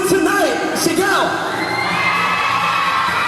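A pageant crowd at a coronation night in Pili, shouting, whooping and cheering all at once, loud and sustained, with several high voices and whistles rising above the roar.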